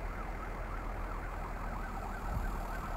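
Police sirens wail steadily at a distance while a fire burns near a club in Mamaia Nord, Romania, their faint, wavering tone sitting under constant street and crowd noise for the full three seconds.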